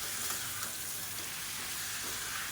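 Chicken pieces with garlic and onion sautéing in a pan for a village-style chicken uppu kari, giving a steady, close, unbroken sizzling hiss throughout with no talking.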